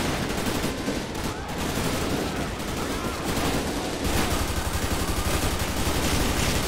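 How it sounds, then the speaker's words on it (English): Sustained gunfire in GTA 5 during a police patrol mod, with rapid bursts and continuous volleys of shots forming a dense, loud barrage throughout. "I'm getting shot right now."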